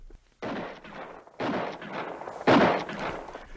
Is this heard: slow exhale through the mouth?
no